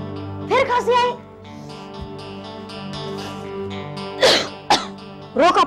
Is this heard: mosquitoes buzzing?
no